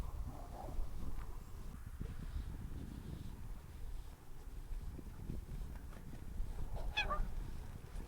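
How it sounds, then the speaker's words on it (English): Geese honk on the water at a fly fishing lake at Sharpley Springs, with scattered calls early and a louder burst of honking near the end over steady wind and outdoor background noise. "There's a lot of noise on the water at the minute with all these geese."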